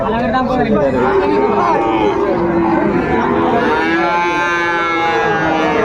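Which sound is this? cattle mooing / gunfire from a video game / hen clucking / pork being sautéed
cattle mooing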